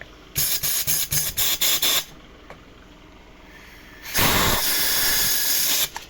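Compressed air hisses in short repeated bursts and then one long steady blast through the valves of a repaired Daewoo Lanos 1.5 cylinder head under pressure test, loud and close, with quiet gaps between.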